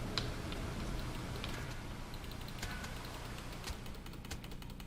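Steady rain falls in the video game Postal 4, a soft continuous hiss with scattered light ticks and drips, faint and without talk.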